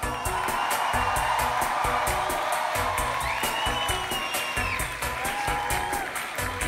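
Rhythmic clapping from a large crowd at a rock concert at Columbiahalle Berlin, with cheers and whoops mixed in, dense and steady throughout.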